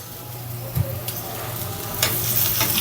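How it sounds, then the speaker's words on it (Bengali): Cumin seeds sizzle in hot oil in a home kitchen pan, a steady close frying hiss with a few sharp crackles and spatters standing out, growing slightly louder toward the end, with no talking. "এখানে জিরা দিয়ে তেলে দিয়ে দেবো"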